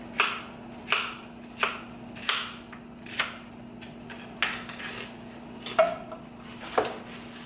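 A knife chops through a green bell pepper on a board in slow, evenly spaced thuds, about ten strokes, close and moderately quiet over a faint steady hum.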